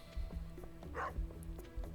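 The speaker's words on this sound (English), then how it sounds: "Oh, I should say good morning to the dog." A dog in the Stardew Valley video game gives a single short bark amid steady game background music and light rhythmic thumps.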